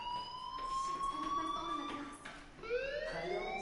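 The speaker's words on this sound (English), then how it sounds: "Hey, do you hear that fire alarm?" A fire alarm in the video game Life is Strange wails as a rising electronic siren, with tones sweeping upward and repeating, moderately loud. No one talks over it.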